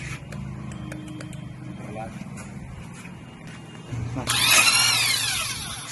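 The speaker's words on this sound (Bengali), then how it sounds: "তো আমি মেশিন দিয়ে টাইট করে নেব ফার্স্ট টাইমে।" Power tool tightening the clutch nut on a Yamaha FZ version 4 BS6 motorcycle, a rising high-pitched whine and rattle that swells near the end, following a quieter stretch of shop noise and low hum.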